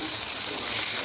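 Chicken pieces go into a pan of fried spices and set off a brief, close, even hiss of sizzling.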